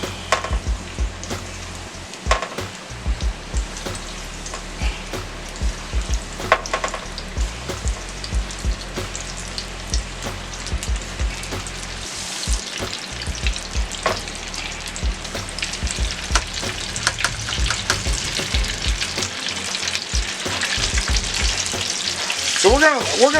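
Popcorn chicken pieces deep frying in a crowded fryer give a steady, loud sizzling crackle that holds throughout, with bubbling bursts and no voices.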